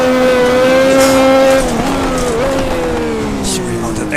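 Ninja Turbo F1 race car in a racing video game at Adelaide, its engine a loud, close, sustained whine that dips and rises with gear and throttle changes, with faint tire noise underneath.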